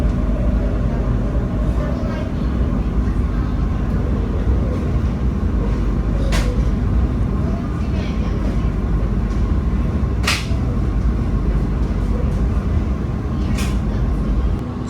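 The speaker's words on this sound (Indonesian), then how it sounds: "Sekarang kereta api Gajayana telah tiba di stasiun Malang Kota Lama dengan keterlambatan sekitar 19 menit" Gajayana Luxury passenger train pulling into Malang Kota Lama station, a constant loud low rumble of wheels and carriages with a few brief high squeals over it.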